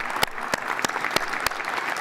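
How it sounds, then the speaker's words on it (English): Audience applause fills a commencement ceremony for Temple University graduates in 2021: a steady, dense wash of clapping with a few sharper, louder claps standing out at regular moments. "Let's give a round of applause to those people special in our lives as well."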